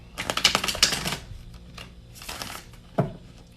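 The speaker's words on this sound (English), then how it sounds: "one more shuffle, please" Tarot cards being shuffled up close, a dense riffling burst followed by a few shorter ruffles and a final sharp snap of the deck.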